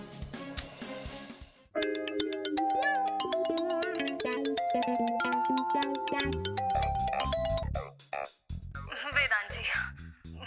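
A phone ringtone melody plays for several seconds at moderate volume, then stops as a voice begins speaking.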